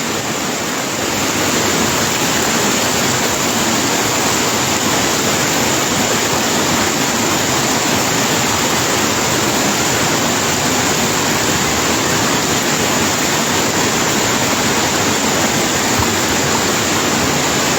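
A powerful, continuous roar of floodwater surging through a broken canal east of Azadi Bazar, Fatikchhari, Chittagong, loud and close, with no voices.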